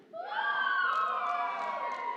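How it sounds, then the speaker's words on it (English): Youth group audience cheering and shouting together in a bright burst of young voices, starting suddenly and staying loud and sustained. "You can cheer for as many as you want, but make your cheer proportionate to how much you like it."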